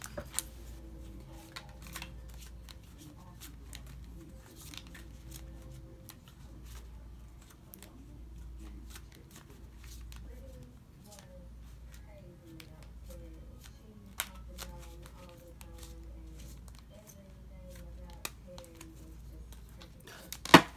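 Tarot cards are shuffled repeatedly in soft, irregular riffles and taps, close and quiet, with occasional faint speech in the background.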